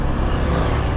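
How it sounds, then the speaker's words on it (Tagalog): Heavy rush-hour car traffic around a motorcycle on a road with a wide shoulder; a dense, loud, steady roar of engines close by, with no talk. "daming mga sasakyan. Rush hour kasi"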